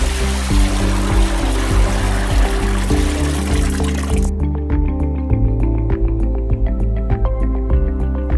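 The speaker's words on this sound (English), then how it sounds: "Now we can add the slurry waste into the bin." Thick slurry waste pours into a waste management bin, a steady wet gurgling splash and squelch that continues throughout, shifting to heavier dripping and plopping near the end.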